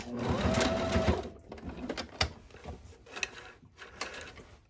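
Sewing machine back stitching at the end of a seam on a hobo tote bag, a dense whirring run of needle strokes for about a second, then quieter intermittent mechanical clicks and handling sounds.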